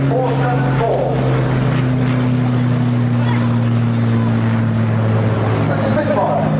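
Vintage propeller aircraft at the Bournemouth Air Festival display, including a Hurricane, Lancaster and Spitfire, heard as a steady, loud droning engine hum with a strong low tone throughout, while a commentator talks over it.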